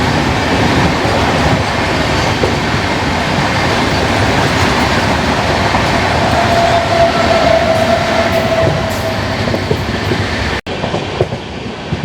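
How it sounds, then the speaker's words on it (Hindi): A Jhelum Express train passes close by on an Indian railway line. A loud, steady rumble and clatter of wheels on rails fills the whole stretch, with a faint wheel squeal partway through and no talking. "चलिए सामने से आ रही है कि झेलम एक्सप्रेस।"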